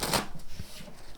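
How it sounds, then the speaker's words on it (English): A deck of tarot cards is shuffled in a quick riffling burst up close, followed by a few softer taps and rustles as the cards settle. "I just want to get a really good shuffle here for you"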